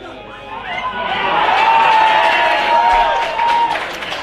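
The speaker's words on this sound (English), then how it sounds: "The crowd reaction tells you it all." A crowd at a 2023 Adelaide Footy League Division 1 Australian rules football match between Goodwood Saints and Sacred Hearts roars after a goal, a loud cheer swelling and holding, with shouts rising above it.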